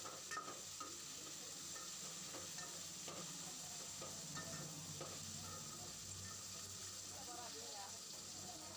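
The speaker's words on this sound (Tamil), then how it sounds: "இது அந்த கடாயில் பிடிக்காத வரைக்கும் நல்லா வதக்கிக்கிறோம்" Tomatoes for a black river crab curry being stirred and sautéed in a kadai, giving a quiet, steady sizzle with soft scraping. Indistinct voices sit low in the background.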